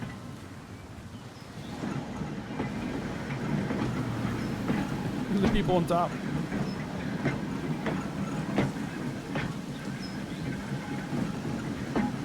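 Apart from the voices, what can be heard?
steam trams running on rails in Transport Fever 2 video game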